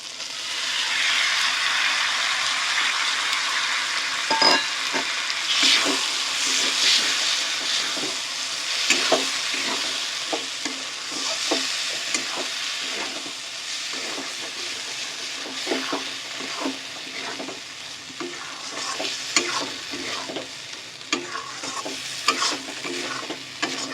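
Dhaba-style chicken tadka fries and is stirred in a kadai, a steady close sizzle running throughout with repeated scraping strokes of the spoon, no voices.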